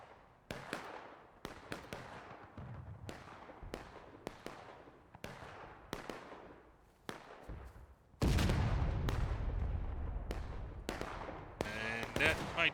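Musket volleys and artillery from the Civil War battle game War of Rights, a string of sharp distant cracks and booms, then a heavy close cannon blast near the end, with voices talking between.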